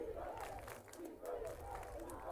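A high school cheer squad and student crowd at a varsity football game cheer on the defense before a third-down play, a distant, steady wash of crowd noise with rising shouts.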